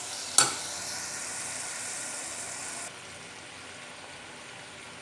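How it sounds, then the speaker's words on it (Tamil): Chopped tomatoes sauté in hot oil in a pan for Tamil Nadu style chickpea kuzhambu, giving a steady close sizzle with one sharp clank of a utensil early on; the hiss then softens slightly partway through. "இப்போ தக்காளி வதங்கிட்டு இருக்குது."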